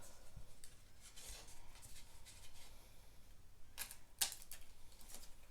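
Scissors snip out paper card house shapes in a few faint, brief crisp cuts over quiet room hiss.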